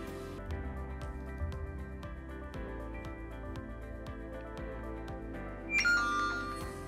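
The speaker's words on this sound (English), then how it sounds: "the notification is here and I will tap on the notification." A phone push notification from a Flutter app using Firebase messaging sounds as a short, bright chime near the end, after a run of steady, evenly spaced faint ticks and clicks.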